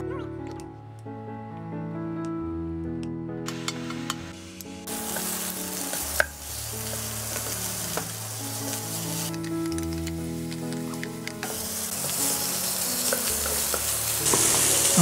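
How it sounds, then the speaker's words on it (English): Mutton frying in a pan with no oil, with a steady broadband sizzle and occasional stirring clicks, heard close under a continuous melodic background music bed. "Okay, into add mutton."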